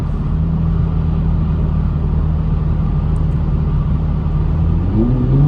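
A car cruising down a freeway on a point-of-view drive, its engine tuned for burble, gives a steady, loud low rumble and drone inside the cabin that holds unbroken throughout, with no talk.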